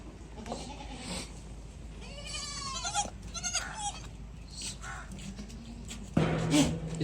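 Newborn goat kids on a goat farm bleat repeatedly in short, wavering cries, fairly close, with a louder bleat near the end against quiet background noise.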